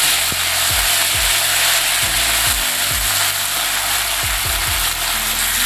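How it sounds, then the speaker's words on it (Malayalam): Curry leaves crackle and sizzle in hot oil with mustard seeds, urad dal and chillies while a Kerala thoran is tempered, a loud steady frying hiss broken by a few low clattering stirs, with no talk. "കറിവേപ്പില ഇട്ടു"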